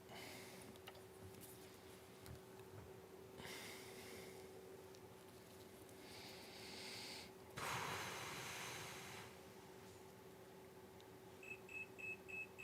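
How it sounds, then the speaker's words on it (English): A faint, thin electronic beep from a multimeter during board repair, pulsing repeatedly near the end over a low steady hum and light handling noises. "my meter is beeping."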